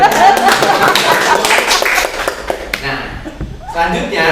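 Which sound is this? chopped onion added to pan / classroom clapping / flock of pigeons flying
classroom clapping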